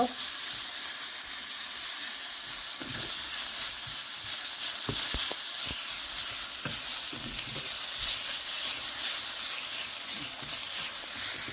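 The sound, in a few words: frying ginger garlic with onions in a pan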